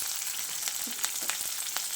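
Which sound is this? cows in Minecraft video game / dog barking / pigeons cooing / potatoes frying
potatoes frying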